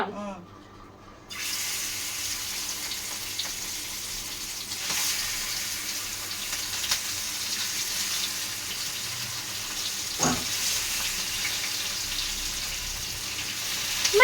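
Coconut trevally fish frying in a pan, a steady broadband sizzle with hiss running throughout, a few brief clicks and scrapes over it, fairly close and moderately loud.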